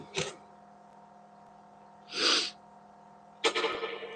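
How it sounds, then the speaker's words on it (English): Three separate human sneezes spaced over a few seconds, close and clear against a quiet room hum, the middle one fuller and longer, the last one sharp with a trailing breathy tail. "I feel like I'm going to sneeze like 6 times."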